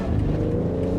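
Gas engine of a BMW X3 M40i growls with a deep, loud rev during a downshift, a sustained low rumble heard from inside the car with no talking.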